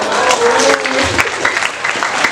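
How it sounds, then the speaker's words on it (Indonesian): A group claps briefly at a school talk about life after graduation, a short burst of loud, dense applause with some voices mixed in. "Tepuk tangan dulu."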